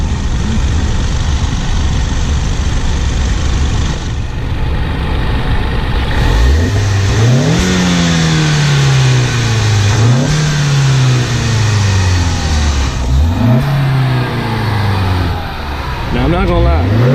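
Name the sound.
car turbocharger whooshing as the engine revs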